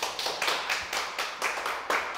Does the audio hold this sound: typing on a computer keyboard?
no